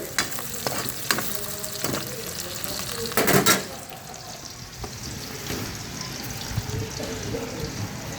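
Lemongrass, onion, ginger and garlic sauté in a pan with loud frying and sizzling. Sharp scrapes and stirs from a utensil come through, with a burst of stirring near the middle and a low background hum.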